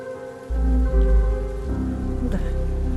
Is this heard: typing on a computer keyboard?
no